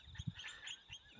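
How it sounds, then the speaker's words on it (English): Faint, distant rosella parrot calls, a few short chirping notes against a quiet outdoor background. "if you can hear those birds, those are parrots, rosellas they're called."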